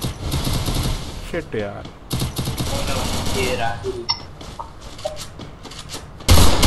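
Bursts of gunshots in the battle-royale video game Free Fire, fairly loud and repeated, mixed with a player talking over the action and a sharp thump near the end.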